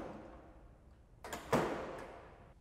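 A door fitted with a panic bar and a Sargent and Greenleaf 2890B lock device is pushed open, giving a sharp mechanical clack and latch release followed by a brief rattling swing, close and distinct in a quiet room.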